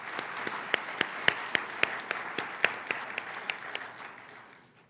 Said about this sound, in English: So why don't you give yourselves a round of applause?